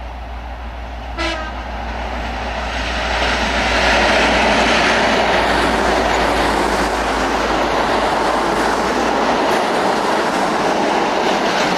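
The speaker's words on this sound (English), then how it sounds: "The train coming." A train rumbles past close by at Chiltern, Victoria, a broad roaring hiss that swells and holds steady, with a brief horn-like tone near the start.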